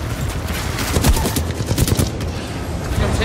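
Rapid bursts of automatic gunfire from the video game Titanfall 2 crackle densely and loudly, shots overlapping into a continuous fusillade with no pauses.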